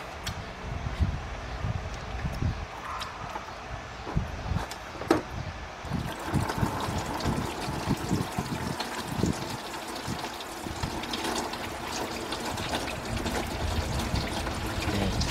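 Fluid from a 2005 Cadillac CTS 3.6 engine drains into a pan beneath the car, a continuous close trickle and splatter that grows steadier after the first few seconds.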